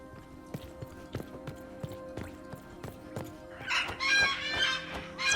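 Chirping birds in the video game Dragon Age: Inquisition, inside an ancient temple chamber, a bright cluster of warbling calls rising toward the end over steady rhythmic clopping and ambient game sounds.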